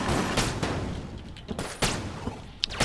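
Fully automatic gunfire in the video game Enter the Gungeon crackles in sharp bursts over a dense, busy game soundscape, with several loud impacts spaced through the stretch.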